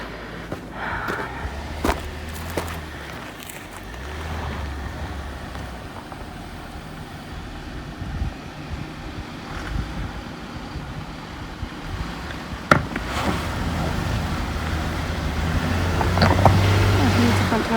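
A homemade 6x6 vehicle drives through roughly 2 to 3 inches of mud on public land, its engine rumbling and revving at a distance with spinning tires, a sharp knock partway through and the engine swelling louder near the end.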